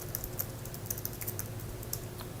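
Quiet, rapid clicking of a computer keyboard as someone types code during a SwiftUI programming session; a steady patter of keystrokes with no voices.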